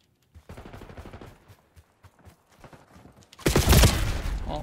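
PM Makarov pistol fire in Call of Duty: Black Ops 6 multiplayer: a string of quick, close, punchy shots through the first seconds, then a louder, denser burst of gunfire and impacts near the end, with no talking.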